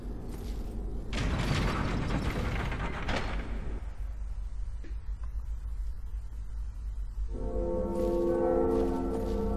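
In the Dark Souls video game, a lever mechanism grinds and ratchets with creaking gear clatter for a few seconds, then after a quiet pause a church bell rings out with a sustained, resonant tone.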